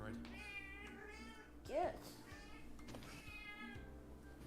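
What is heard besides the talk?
cat meowing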